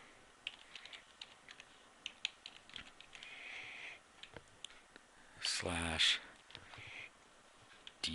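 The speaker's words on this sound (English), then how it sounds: "Type in our domain name, password protected," Keys clicking on a computer keyboard as a domain name is typed, a quiet run of light taps and short bursts with a louder clatter partway through.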